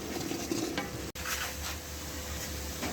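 Capsicum, carrot and tomato are stirred and fried in a pot for chicken pilau, a steady close sizzle with a sharp brief clatter of the spoon partway through.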